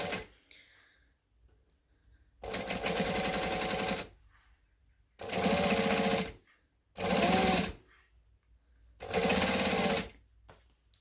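A sewing machine stitches fabric in four separate bursts of steady whirring, each one to two seconds long with quiet gaps between, loud and close.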